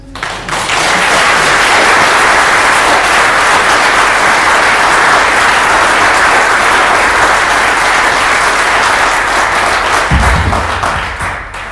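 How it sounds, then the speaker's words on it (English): A summit audience gives loud, sustained applause, dense clapping filling the room for about ten seconds before tapering off. "I want a big applause for Natural Instruments"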